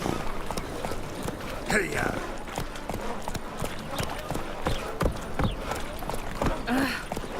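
Hoofbeats of the horse Roach galloping in The Witcher 3 video game, a steady clip-clop rhythm running throughout beneath a voice speaking briefly.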